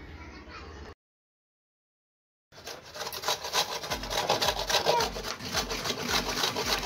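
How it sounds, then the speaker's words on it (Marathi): Dried coconut grated on a hand grater, an ingredient for fenugreek laddoos, gives a steady raspy scraping that starts after a short pause and runs on loud and close; a brief bit of other sound comes before the pause. "खोबरं किसणीच्या सहाय्याने असं किसून घ्यायचंय"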